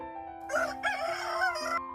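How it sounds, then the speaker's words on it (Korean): A silkie rooster on a Korean farm that keeps super, white and blue-egg silkies gives two close, loud crows with strained, rising tones over a quiet background. "오골개, 슈퍼 오골개하고 백봉 오골개하고 청계단거만 키웁니다"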